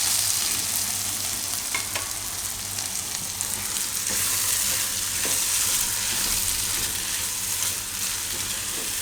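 A pan of cashews, bananas and capsicum sizzles steadily on a gas stove for a Gujarati kaju kela shaak, with a dense hiss of frying and a few faint scraping stirs and clinks.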